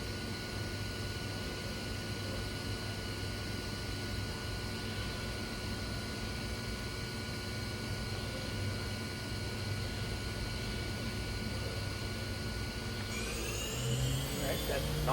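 SMART SV2 CNC vertical machining center, a 2023 machine, with its spindle spinning at 6,000 RPM, giving a steady machine whine with a constant hum throughout, and a brief shift near the end as people talk.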